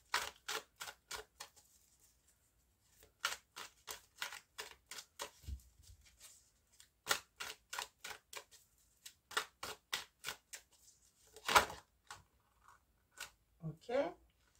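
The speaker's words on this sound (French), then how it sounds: "Avec le tarot des anges, on va faire une coupe" Tarot cards from an angel deck are shuffled and cut by hand, making bursts of quick crisp flicks and snaps in uneven runs with short pauses, one louder riffle near the end, close and fairly quiet.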